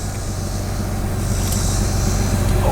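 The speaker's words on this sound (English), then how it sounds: "started and it's idling" 2000 Jeep Cherokee XJ engine idling after starting, a steady low throbbing rumble with a dense even pulse, close and constant with no talk.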